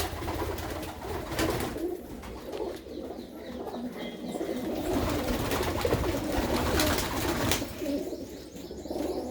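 Pigeons kept by a village fancier coo in low, repeated rumbling phrases through most of the stretch, fairly close and steady, with a brief louder burst near the end and no talk.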